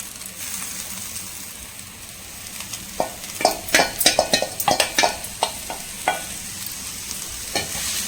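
Amaranth greens stir-frying in a pan with coconut: a steady low sizzle under a cluster of sharp scraping stirs and clinks in the middle, then fading back to the sizzle.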